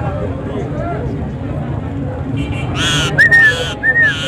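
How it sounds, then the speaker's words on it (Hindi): A parrot gives a few short rising whistles, bird-like and clear, near the end over a background of murmuring talk at a Sunday market in Lahore. "सीटियां मारदा है मियां मिठू"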